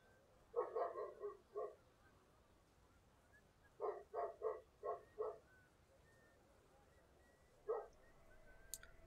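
Dog barking in the video game Hitman: Absolution, a rapid burst of four or five barks, then another quick run of barks a few seconds later and a single final bark, moderately loud with no talk over it.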